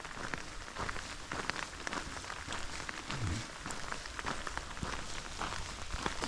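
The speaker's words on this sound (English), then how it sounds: "Didn't take long before the rain set in, so we get to try out these ponchos properly now." Rain falls steadily during a hike on the Camino Primitivo between Lugo and Santiago de Compostela, with hikers wearing ponchos. It makes a constant soft hiss with scattered drop patters, and no one speaks.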